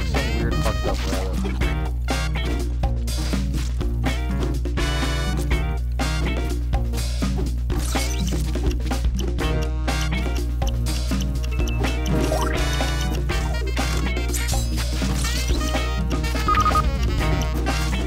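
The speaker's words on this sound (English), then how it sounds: "Hitting the water takes away your ink. That's water, I guess." Water in the video game de Blob, with squishy liquid dripping and splashing sounds repeating steadily over a continuous, low humming game soundtrack and never stopping throughout.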